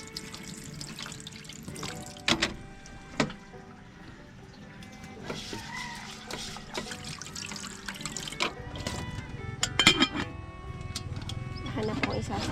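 Uncooked rice is washed by hand in water before cooking, with sloshing, splashing and trickling sounds, intermittent clinks of grains and a container, under a person talking nearby.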